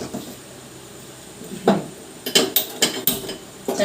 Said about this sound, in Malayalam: ചട്ടി വെച്ചിട്ട് ചൂടാവട്ടെ.